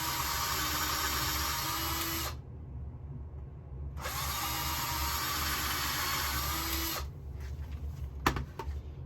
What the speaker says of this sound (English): And I go ahead and put these screws in.